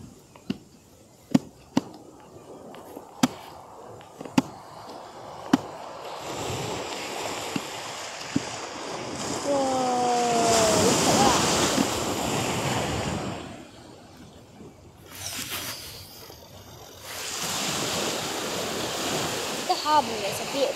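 Big waves crash against and over the harbour wall at Staithes, a long roaring surge of broadband water noise swelling mid-way with wind buffeting the microphone, sharp knocks early on and a voice talking over the surf.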